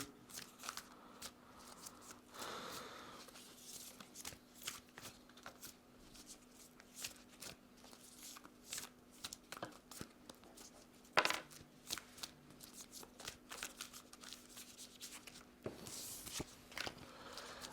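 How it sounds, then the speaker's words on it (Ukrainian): Cards shuffled over and over, crisp riffling bursts and soft taps repeating at an uneven pace, close by and fairly quiet, with no voices. "зараз колоду тасую"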